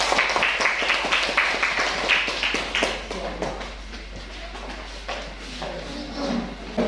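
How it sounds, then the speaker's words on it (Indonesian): Students in a classroom applauding, a burst of close, dense clapping that gradually thins and fades into scattered claps and room shuffling. "Kita berikan aplaus bagi mereka."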